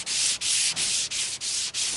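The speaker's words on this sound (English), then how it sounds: "Alright, now we're gonna sand this" Hand sanding on a Chevy squarebody truck body before repainting produces close, loud rhythmic strokes, six even back-and-forth scrapes separated by brief pauses, with no talking.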